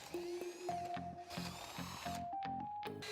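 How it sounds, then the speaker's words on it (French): A power drill fitted with a flat spade wood bit bores through a wooden floor plank, giving a steady whining motor drone with pitch shifts under load, recorded at low level. "commencez par la percer à la perceuse équipée d'une mèche à bois plate"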